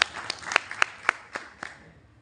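An audience at a Marathi devotional talk claps briefly: about seven crisp, evenly spaced hand claps, fairly close and distinct, with a faint murmur in the background and no talk over them.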